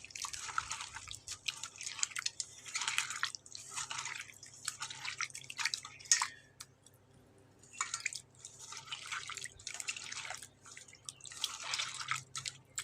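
Small bitter gourds are washed by hand, squeezed and kneaded in water, producing close, quiet bursts of wet squishing and dripping that come in repeated spells separated by short pauses.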